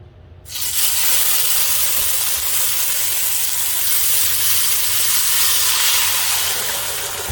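Sauce cooking in two tablespoons of hot oil for a chile relleno, giving a loud, steady hiss and sizzle that starts suddenly and holds evenly throughout.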